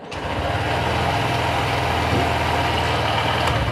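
Honda 125cc motorcycle engine running at a steady idle, a continuous low rumble with a regular pulsing beat, close and fairly loud, with no speech.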